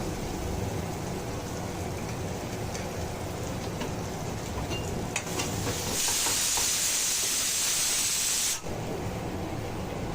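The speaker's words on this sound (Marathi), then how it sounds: "तर डाळ भात बनवतो त्यामुळे शिट्टीचा आवाज येतोय" A pressure cooker hisses and whistles while dal and rice cook on a home kitchen stove, a steady rushing steam hiss that swells into a brighter, louder whistle for a few seconds before cutting off.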